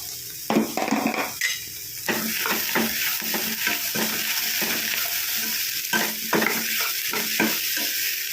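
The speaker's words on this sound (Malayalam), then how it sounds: "പിന്നെ നമുക്ക് ചിക്കൻ ഞാൻ വേവിച്ചിട്ട് പൊടി പൊടിയായിട്ട് അരിഞ്ഞ് ഇട്ടതുകൊണ്ട് അത് ഇട്ട് കൊടുക്കുക." Finely chopped cooked chicken stirred into a hot pan, a sizzling bed under repeated close scraping and clattering strokes of a spoon against the metal, in uneven bursts.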